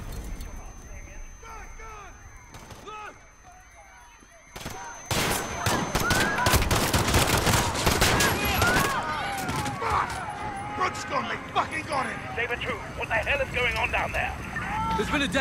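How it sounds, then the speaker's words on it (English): Gunfire in Call of Duty: Modern Warfare, with shouting voices over a tense backdrop that gives way to loud, rapid volleys of shots and chaotic bursts, voices continuing beneath the firing. "Shots fired."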